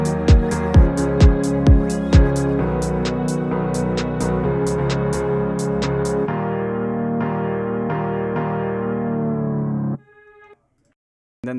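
A full song mix plays, with a punchy kick drum thumping in a steady pulse over sustained layered instruments and bright rhythmic clicks, then the music cuts off abruptly near the end.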